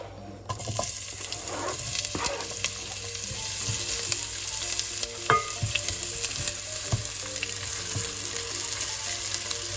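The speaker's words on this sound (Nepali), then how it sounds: "अब यसमा म प्याज राख्दैछु।" Onions frying in hot oil with whole cardamom and cinnamon for goat curry: a steady, close sizzle runs throughout, with occasional stirring scrapes and clicks and no talk.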